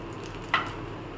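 Pointed gourd (potol) fries in a pan with a faint, steady sizzle throughout and one brief louder crackle partway through, with no talking.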